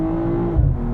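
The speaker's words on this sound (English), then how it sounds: "There's a little bit of wheel spin." A 2022 BMW M440i xDrive Gran Coupe accelerates hard with brief wheel spin, its engine a loud, steady close-up drone that swells in a short low surge near the end.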